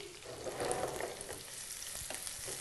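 Chopped green chillies and onions hit hot oil with a bright crackling sizzle, then fry on quietly with small stirring scrapes. They are the start of a masala prawn dish.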